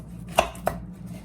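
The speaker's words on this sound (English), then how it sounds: "I'll show you how to chop bitter gourd." A knife chops through bitter gourd on a board: two crisp, close cuts about a third of a second apart over a quiet background.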